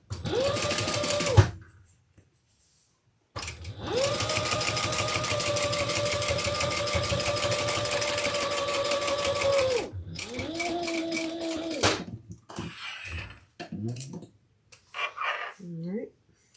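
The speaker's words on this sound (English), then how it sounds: "And top stitch with the seam under the side." Sewing machine top stitching a leather crossbody handbag, running in long steady bursts with short pauses between seams, loud and close, with brief moments of talk between runs.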